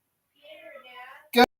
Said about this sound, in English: She's meowing loud.